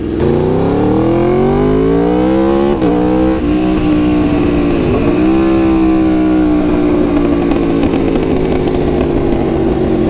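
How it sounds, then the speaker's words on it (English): A loud motorcycle engine with an SC Project exhaust revs up and down continuously, its exhaust burbling and gurgling as the pitch drops on downshifts, close and without talk. "it gets that nice gurgle, you know, when you're like downshifting, or you just let off the throttle"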